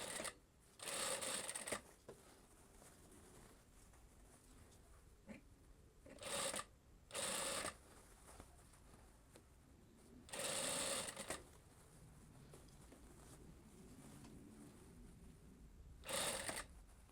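Short bursts of a sewing machine stitching a blouse, four separate runs of about a second each with quiet handling and rustling of fabric between them, fairly close.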